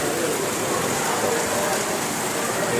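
Heavy rain pours down steadily on a pilgrimage route near a rest house, a loud, dense, unbroken hiss of water striking surfaces close around.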